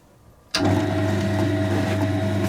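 A small electric motor from a converted wet stone grinder switches on abruptly after brief quiet, then runs with a steady, even hum and whine.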